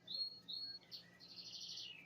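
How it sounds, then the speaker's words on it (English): Birds chirp outdoors in a series of high, bright calls: two clear whistled notes, then a quick run of repeated chirps, fairly faint and distant, with no talking. "Right on cue. There's my birds."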